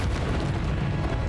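A Bombarda spell explodes in the Hogwarts Legacy video game, a deep booming blast that rumbles steadily through the clip at a loud, close level with no talk over it.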